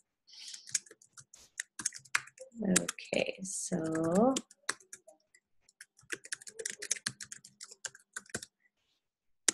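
Someone types registration details into an online form on a computer keyboard, sounding as bursts of light, quick key clicks close by, with a person speaking briefly between the runs of typing.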